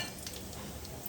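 Chana dal and urad dal frying in hot oil for a vegetable chutney, a steady, quiet, continuous sizzle with faint crackles throughout.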